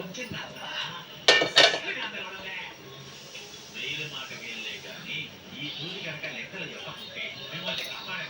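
A pan set down on a stove while goat blood curry is prepared, giving two sharp metallic clinks close together early on, followed by a steady low background hiss with soft clatter.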